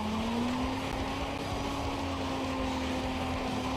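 A car engine from the racing video game Need for Speed: Most Wanted drones at a steady, slightly rising pitch, loud and continuous with no talking.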